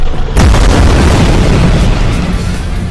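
A loud boom bursts out at about 0.4 seconds as enemy ships open fire in the Space Quest game, then a dense roaring rumble carries on steadily through the rest of the moment with no voices.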